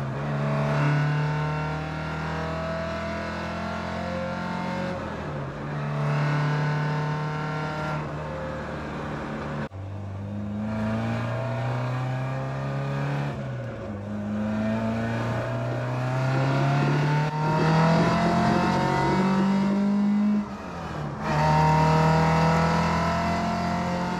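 Classic car driving on the road, engine rising and falling through several gear changes with repeated revving sweeps, loud and close throughout, no speech.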